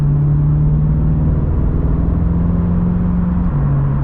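C8 Corvette with a dual-clutch gearbox in manual mode, a steady loud engine drone and whir from inside the car, holding one gear before a brief shift near the end.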